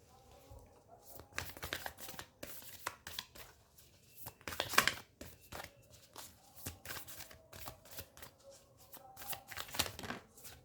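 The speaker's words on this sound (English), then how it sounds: "Let me pull out some cards for you from the Moonology Oracle deck." A Moonology Oracle card deck is shuffled by hand, giving repeated quick riffling bursts in an irregular rhythm across several seconds, close and fairly soft in a quiet room.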